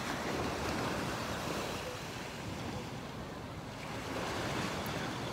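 Ocean surf washes steadily onto a beach in a continuous broad roar, with wind buffeting the microphone and no talk over it.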